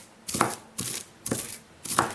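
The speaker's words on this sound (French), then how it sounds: "avec un gros couteau, on hache le thym." A large knife chops thyme leaves on a board in four evenly spaced, crisp strokes, each a sharp thud close up with near silence between.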